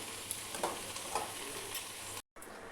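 Boiled potatoes frying in hot oil in a wok, a soft steady sizzle with occasional spatula scrapes, fairly quiet and close, cut by a brief gap near the end.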